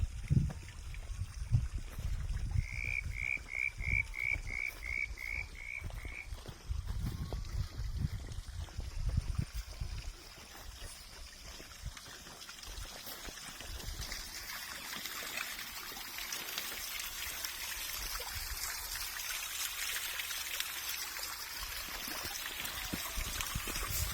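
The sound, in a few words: pond waterfall splashing, powered by solar water pump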